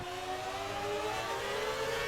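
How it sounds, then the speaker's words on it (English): A McLaren race car at the Abu Dhabi circuit accelerates through its gears, its high engine whine rising steadily in pitch and holding a constant, moderately loud level with no talking. "Just listen to that engine. Working its way through all the gears now."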